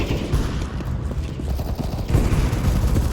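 Rapid gunfire from the video game CS:GO in a team deathmatch on the Vertigo map, with bursts of automatic shots crackling throughout, fairly loud and continuous with no talk.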